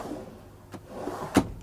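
A soft-close drawer in an Adria MAN Twin Max campervan glides shut with a quiet slide and ends in one gentle thump, heard alone at close range.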